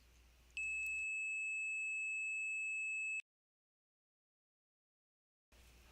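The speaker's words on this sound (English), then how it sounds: "Determine the center line of a target that is causing the alarm by listening to the change of tone." A steady electronic tone from an MG 6000 metal detector alarm sounds for a few seconds then cuts off, with a brief higher pitch marking the change, followed by silence before faint background returns.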